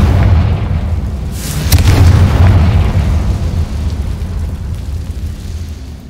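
In Hogwarts Legacy, a Confringo spell explosion bursts as a loud deep boom that swells and then rumbles away over several seconds.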